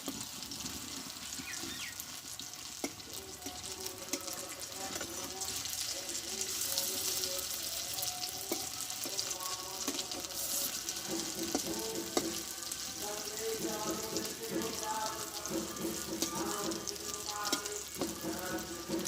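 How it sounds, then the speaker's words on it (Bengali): Banana flower fritters deep-frying in hot oil, a steady crackling sizzle with bubbling that carries on throughout at moderate level, with no voices. "এইভাবে আমি কিন্তু দু তিনবারে ফ্লোরিগুলো ভেজে নেবো"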